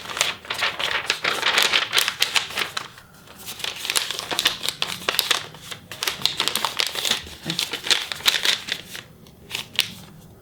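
Paper crinkling and crumpling close up as a deck of playing cards is wrapped in a sheet of paper, a steady run of dense crackles and rustles with brief pauses.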